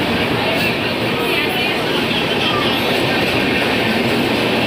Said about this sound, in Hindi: ट्रेन बोरीवली के 6 नंबर प्लेटफॉर्म पे एंटर करती है लालगुड़ा शेड के WAP7 लोकोमोटिव के साथ।